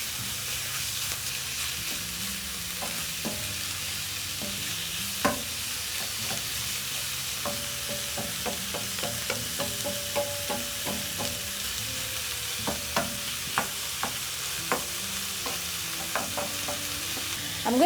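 Thinly sliced beef sears in a hot pan for a noodle dish, giving a continuous steady sizzle with scattered sharp clicks and scrapes of stirring, close and moderately loud, no voices.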